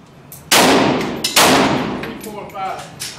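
Two loud 7.62 rifle shots at an outdoor shooting range, a second apart, each with a sharp crack and a long ringing decay, followed by faint metallic clinks.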